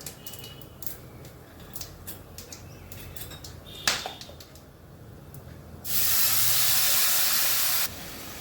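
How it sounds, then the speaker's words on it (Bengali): Cumin, garam masala and an onion-garlic-tomato paste hit hot oil while cooking a masala rohu fish curry, giving a sudden loud, steady sizzling hiss for about two seconds after quieter clinks and scrapes. "এবার গরম মশলা জিরে ফোরন করছি পেঁয়াজ রসুন টমেটো সব পেস্ট করা আছে মশলাটা দিয়ে দেবো"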